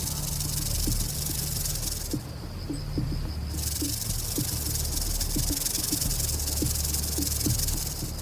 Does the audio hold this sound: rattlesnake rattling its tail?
yes